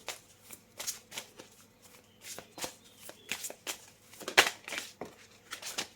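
Playing cards shuffled by hand for a tarot-style card reading, a run of crisp riffling snaps and soft slides repeating steadily at close range, with no talking.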